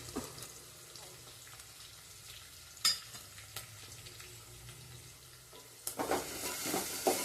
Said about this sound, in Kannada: ಸ್ವಲ್ಪ ಫ್ರೈ ಆಗಬೇಕು ಇದೆಲ್ಲನೂ ನೀಟಾಗಿ